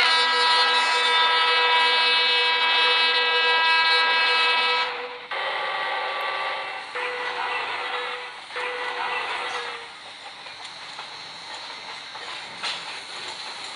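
The Pushpak Express (02534, CSMT to Lucknow, LHB coaches) sounds a loud sustained multi-tone horn, then shorter blasts in several bursts, fading into quieter rolling rail and track noise as it departs.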